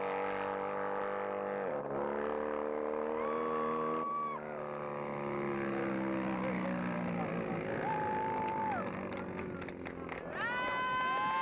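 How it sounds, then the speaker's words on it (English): Twin-engine Norton racing motorcycle from the 1970s roaring down a runway, a loud sustained engine note rising and falling in pitch as it accelerates and shifts through gears. "a clip of T.C. Christenson taking his twin-engine Norton down a runway"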